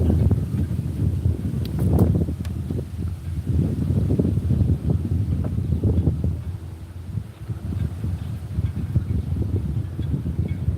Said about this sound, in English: it's definitely much windier over here than it is over where we were just at.